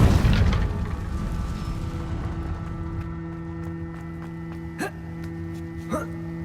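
A Confringo spell blast in Hogwarts Legacy booms loudly at the start and then decays into a ringing tail, with two smaller pops following a few seconds later.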